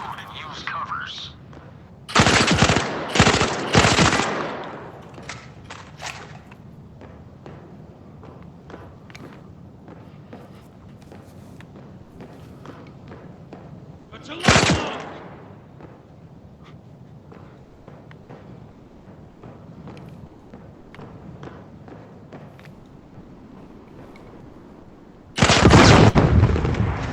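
Loud bursts of gunfire at shooting targets in the virtual-reality shooter Zero Caliber, a rapid volley early on, then single blasts about ten seconds apart, with quiet movement sounds between.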